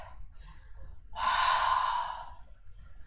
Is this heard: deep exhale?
yes